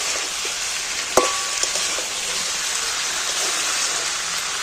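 Tomatoes frying with spices in a pan, a dense continuous sizzle like rain with one sharp clink of a utensil early on, steady and close without speech.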